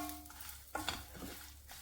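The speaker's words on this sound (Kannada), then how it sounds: "ಈಗ ಇದಕ್ಕೆ ನಾನು 2 ಟೇಬಲ್ ಸ್ಪೂನ್ ಆಗುವಷ್ಟು ಬಿಳಿ ಎಳ್ಳನ್ನು ಹಾಕಿ ಹುರಿತಾ ಇದ್ದೀನಿ" White sesame seeds dry-roasting in a pan for a fenugreek-leaf chutney, giving a soft, close sizzle with a few brief stirring scrapes and clinks over about two seconds.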